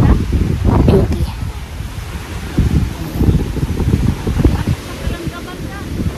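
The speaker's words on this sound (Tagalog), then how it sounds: "Tanging ang alon lang maririnig mo dito" Waves wash in and break in uneven surges, mixed with gusty wind buffeting the microphone.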